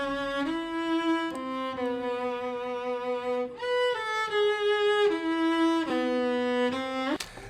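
A cello plays a slow sequence of sustained bowed notes, picked up only by an Aston figure-8 side microphone, sounding close and resonant with soft onsets and rich overtones, with no talking.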